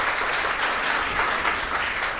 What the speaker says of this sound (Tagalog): the best na palakpak mo para kay Jesus